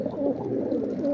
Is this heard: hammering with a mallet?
no